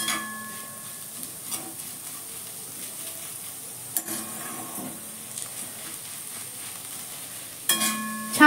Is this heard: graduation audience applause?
no